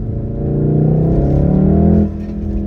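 Stage II Volkswagen Golf R in race mode, engine revving loud and close with a rising throaty drone that holds for about two seconds, then drops back to a lower rumble.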